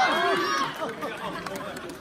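A crowd at a Deyun She crosstalk evening show at Guangdelou theatre cheers and shouts bravo. Loud, ragged voices rise at first, then taper into scattered calls and chatter.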